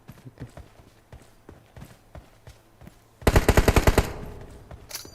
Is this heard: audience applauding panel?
no